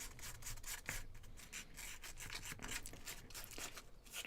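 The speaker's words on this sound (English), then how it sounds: "I'm just going to sand the edges of these" Edges of small wooden model pieces being sanded by hand, a steady scratchy rubbing in short back-and-forth strokes, close and quiet, no voices.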